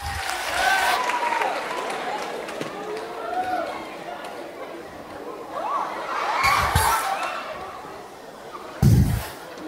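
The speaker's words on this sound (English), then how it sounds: "a lofty round of applause for Veer Bechan" Audience applause and cheering at a secondary schools poetry slam in Trinidad, a broad crowd noise with whoops and shouts rising midway and a short loud burst near the end, with voices over it.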